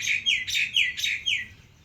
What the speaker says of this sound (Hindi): ये है मैना पक्षी।